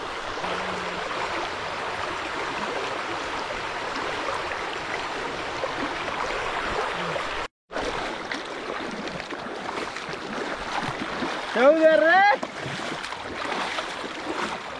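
Floodwater rushing steadily past in a flooded village, a broad continuous wash of flowing water with a brief dropout midway and a short whistling tone near the end.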